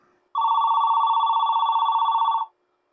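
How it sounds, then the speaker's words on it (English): A homelab telephone line rings with one steady electronic ring lasting about two seconds, loud and close, with a fast pulsing warble and no talk. "So I'm dialing the number now and you'll hear it ring."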